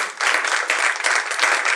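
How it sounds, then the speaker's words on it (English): An audience at a school ribbon cutting ceremony breaks into a steady round of applause, dense and even throughout, close and fairly loud with no pauses. "Let's give him a round of applause."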